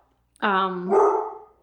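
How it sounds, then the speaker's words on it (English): A single close dog bark, loud and tonal, rising sharply and trailing into a brief rough tail, heard alone indoors. "Sorry about my dog barking."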